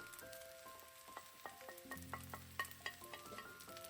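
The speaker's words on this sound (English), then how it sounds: "now it's time to add the scrambled eggs" Scrambled eggs added to a frying pan of Chinese sausage and vegetable fried rice, a quiet sizzle with scattered clinks and a brief utensil tone, no talking.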